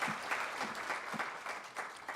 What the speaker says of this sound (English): I think it deserves a round of applause there.